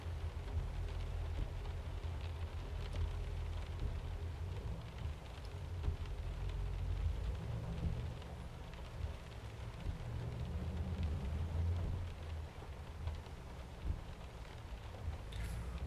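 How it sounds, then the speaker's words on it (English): In American Truck Simulator, steady rain hisses over a low rumbling truck engine drone, continuous and even throughout with no voices. "We'll do a bit of driving in the rain."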